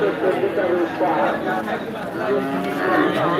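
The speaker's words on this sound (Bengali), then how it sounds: "কি সুন্দর সুন্দর গরু খাওয়ার জন্য কেমন করছে দেখেন" Cattle lowing at a busy livestock market, several cows mooing close by over a steady crowd chatter and people talking throughout.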